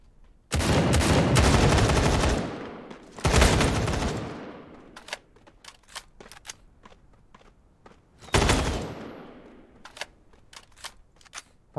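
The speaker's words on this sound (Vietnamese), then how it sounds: "Hai thằng ở xa bắn cover." Gunfire from enemy players in a battle royale video game: two long bursts of automatic fire, then scattered single shots, another burst, and more isolated cracks, loud and close.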